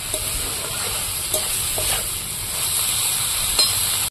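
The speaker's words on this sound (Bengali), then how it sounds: "এবার নাড়াচাড়া দিয়ে এটা চচ্চড়ি বানিয়ে নেব" Potato chorchori fries in a pan with a dense, steady sizzle, close and fairly loud, while a spoon scrapes and stirs at intervals, with no voices.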